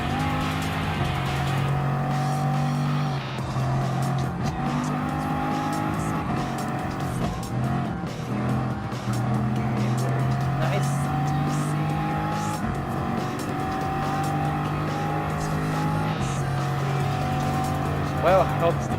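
Race cars driving in Gran Turismo Sport, a continuous loud engine drone with shifting revs, gear changes and occasional tire squeal, steady throughout with no clear speech.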